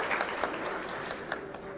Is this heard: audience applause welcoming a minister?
yes